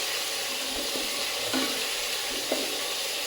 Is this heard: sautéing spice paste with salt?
yes